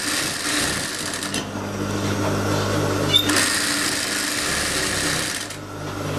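A sewing machine runs close and steady, stitching the edges of aso oke fabric pieces together, its motor whirring with a short pause midway before resuming.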